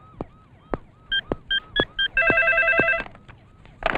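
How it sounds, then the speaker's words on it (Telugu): A telephone rings with short electronic tone bursts, then a longer sustained ring, with sharp clicks scattered between them. "మీకు ఫోన్."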